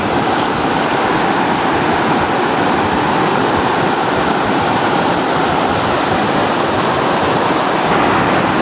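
Mountain stream water rushing near a forest camp in Silent Valley, a steady, loud, unbroken roar of flowing water that fills the whole stretch without pause.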